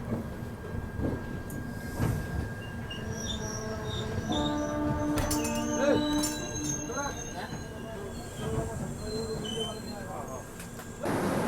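The Bharat Gaurav tourist train runs non-stop toward Kolkata after leaving Sakhigopal station, its rolling rail rumble steady and close, with sustained metallic wheel squeals rising in the middle and faint voices underneath.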